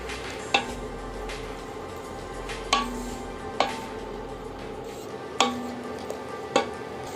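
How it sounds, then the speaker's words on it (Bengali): Ginger-garlic paste and spices being stirred and fried in oil for Bengali ilish polao, with a soft steady sizzle and sharp intermittent scrapes of a spoon against the pan, close and clear, no voices. "আমি এই তেলের মধ্যে মশলাটা 5 মিনিট কষায় নিছি খুব ভালোভাবে।"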